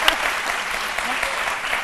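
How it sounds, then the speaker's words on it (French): Encouraging applause for Titi Koné, a freestyle footballer set to represent Côte d'Ivoire at the world championship in South Africa; a dense, steady wash of many hands clapping continuously at fairly close range. "des applaudissements d'encouragement pour Titi Koné"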